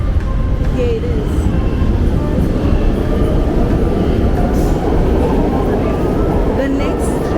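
A Brussels metro line 2 train pulls into an underground station with a loud, steady, close rumble and rattle of wheels and cars that fills the whole stretch without a break.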